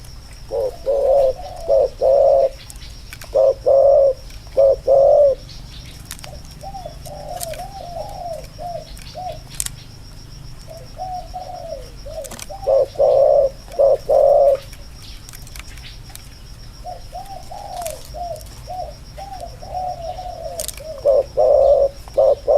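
Spotted dove (นกเขาใหญ่) in a mountain forest, cooing in repeated soft, low phrases that come in bursts of a few notes with short pauses, fairly close and clear over a faint steady background hum, with no talking.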